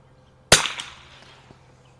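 One sharp, loud crack from a 1974 Remington 540X rifle with iron sights at a 50-yard range, followed by a short decaying echo.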